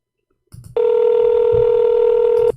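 A telephone redialing after a dropped call: a brief clicking burst, then a loud, steady ringback or dial tone lasting close to two seconds before cutting off, with faint background noise and no speech.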